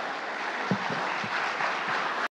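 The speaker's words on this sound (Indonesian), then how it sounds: "kita berikan tepuk tangan" Audience applause at a televised Papua Barat regional election debate, a steady wash of clapping filling the hall for a couple of seconds before cutting off abruptly.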